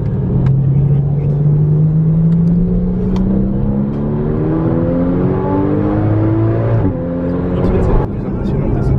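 A Ferrari 812 Superfast V12 drifts through a roundabout, its engine roaring loud and close with a rising pitch sweep that drops off sharply near the end.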